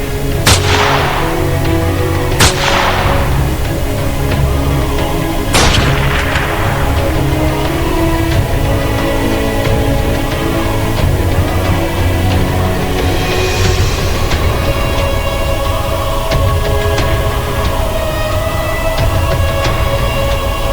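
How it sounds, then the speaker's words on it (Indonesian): Gunshots punctuate a dramatized war story: two or three sharp cracks early on, the first few seconds apart, over a dense, continuous rumbling battle-sound background with no talking. "Jenderal yang mengetahuinya segera menembak kaki kanannya."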